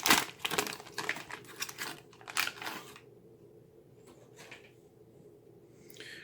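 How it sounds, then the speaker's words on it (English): A ration cake's wax paper wrapper crinkles close up in loud, irregular bursts for about three seconds. Fainter rustles and crackles follow as the handling slows. "Of course, it's wrapped in this kind of wax paper."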